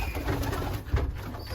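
Racing pigeons coo in a loft, giving a soft low murmuring call close by amid a steady airy background hiss.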